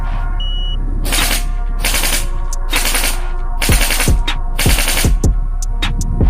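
Bolt Airsoft B4 MK18 Mod 1 recoil airsoft rifle fires full auto in several loud, close bursts of rapid mechanical clacks separated by short pauses, each burst ending with a thumping recoil knock.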